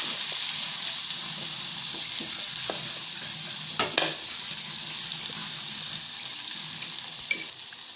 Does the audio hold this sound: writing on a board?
no